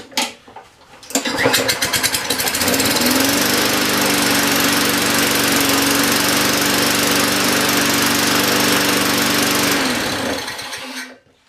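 A small engine bursts into life after a pull and settles into a steady, loud running drone that lasts several seconds before it is cut and dies away; no one speaks.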